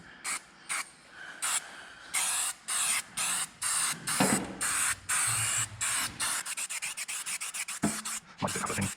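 Bursts of aerosol spray from a can laying paint or underseal onto a Ford Puma during MOT repairs, a run of short hissing blasts with brief gaps, then quicker rapid puffs near the end, close and fairly loud.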